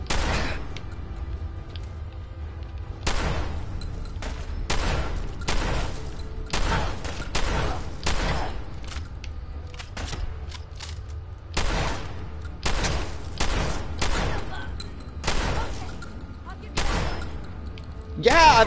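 Gunfire in Fallout 4 during a firefight, with repeated loud bursts and single shots cracking out in irregular clusters over about eighteen seconds, while a voice talks at times between the shots.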